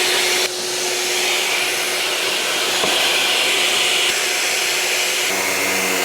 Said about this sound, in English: when you start the sander, you want to start it above the tool and bring it down to your workpiece